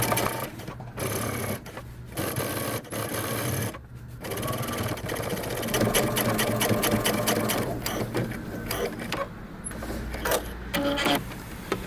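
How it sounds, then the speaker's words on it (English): A sewing machine top stitching jeans runs steadily with fast, rhythmic needle clatter, close and continuous, with a few brief pauses between bursts. "then you're going to also top stitch a 1/4 inch away. Top stitch close to the edge."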